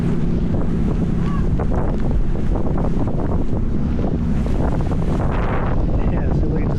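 Floodwater waves wash up onto a sidewalk in Venice, a continuous rushing and splashing of water mixed with heavy wind buffeting the microphone throughout.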